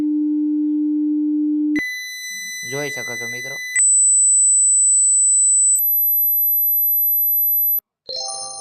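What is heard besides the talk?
mobile phone speaker sound test tones and beeps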